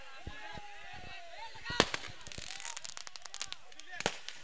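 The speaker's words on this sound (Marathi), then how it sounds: "आज तुम्ही थांबा, फटाके वाजवायला थांबा" Firecrackers burst at a crowded celebration, with sharp loud bangs and crackling pops coming irregularly, one especially close and loud near the middle, amid cheering crowd noise.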